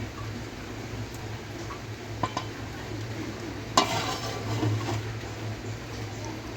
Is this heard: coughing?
no